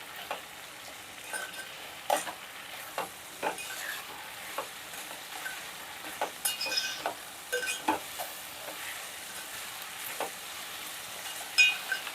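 A spoon stirs a meal maker and drumstick curry in a pot, making quiet, irregular scrapes and light taps over a soft, faint sizzle, with no talking.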